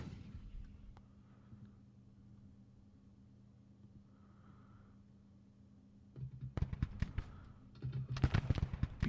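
Cannon and rifle fire from a Civil War strategy game set at Lebanon, 1861–1865: a low steady battlefield rumble, then from about six seconds dense bursts of sharp overlapping reports, loud and clustered near the end.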